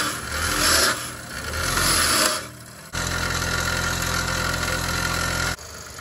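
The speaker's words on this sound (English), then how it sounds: "The three bolts that came out of the cap are gonna get cleaned up on the wire wheel." Three bolts from a Yanmar 1500D tractor's rear-end cap are scrubbed on a spinning wire wheel, a loud, close, rasping grind that comes in two bursts, pauses, then runs steadily for several seconds before stopping, with no talking.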